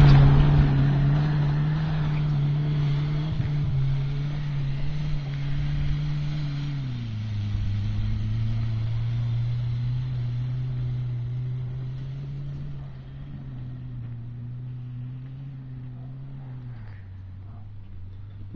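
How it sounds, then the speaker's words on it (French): A car with a 325-horsepower direct-injection V6 biturbo engine runs through handling tests, its steady droning engine note holding a low pitch and stepping down in speed twice as it drives, with no talk. "Donc là c'est les tests de maniabilité pour voir si la voiture fonctionne bien, réagit bien aux commandes."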